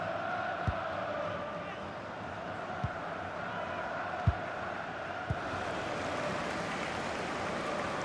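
A stadium crowd roars steadily in the FIFA 19 football video game, a dense and constant wash of cheering. A few soft thumps sound through it.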